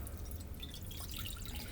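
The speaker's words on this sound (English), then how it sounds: "pour in 2 cups of water into a bowl" Water poured into a bowl to make bubble solution, a faint, steady trickle lasting under two seconds with no talking.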